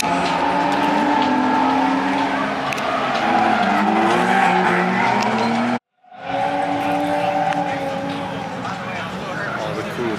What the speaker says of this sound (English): All the cool drift cars.